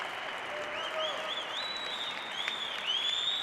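Live crowd at a pro singles racquetball quarterfinal applauding after a rally, a dense steady wash of clapping with whistles and cheers rising over it.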